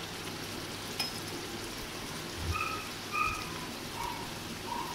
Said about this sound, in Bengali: পেঁয়াজ রসুন আদা টমেটো সব কিছু দিয়ে মশলা কষাচ্ছি